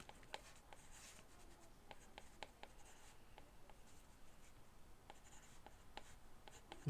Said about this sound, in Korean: 제가 p라고 하는 걸 이렇게 써볼게요